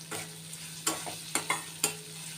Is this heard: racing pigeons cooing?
no